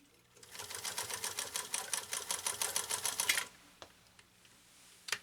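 PFAFF 332 sewing machine straight stitching through six layers of heavy grade denim, a rapid rhythmic run of needle clatter for about three seconds, then stopping with a few faint clicks and handling noises.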